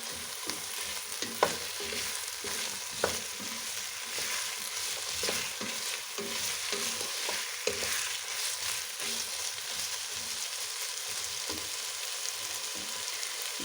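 Seafood soup ingredients fry in a pan with a continuous loud sizzle and occasional stirring clinks and scrapes, close up.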